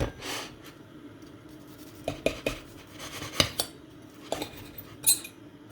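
A fork scrapes and clinks against a saucepan while a grilled cheese sandwich is flipped, with sharp metallic taps and scuffs scattered irregularly over quiet stovetop sizzle, close up and without talk.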